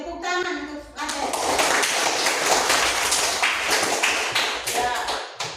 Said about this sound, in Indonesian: Tepuk tangan untuk Adel.